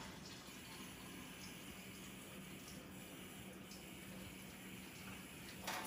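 Water runs steadily from a dispenser spout into a small cup, a continuous close splashing hiss with a faint click near the end.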